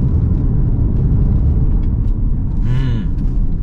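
A Nissan X-Trail or Mazda CX-60 SUV corners on a winding mountain road, a loud, steady low engine and road rumble heard from inside the cabin, with a brief tonal squeal or whine near the end.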